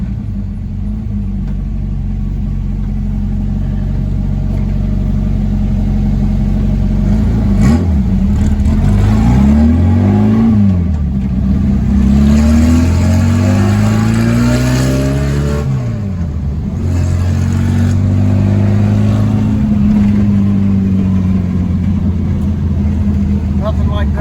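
Old VW Super Beetle fitted with Holley Sniper EFI, engine revving hard through the gears while driving, loud rising and falling pitch sweeps with brief dips at shifts, heard from close by under a continuous rumble.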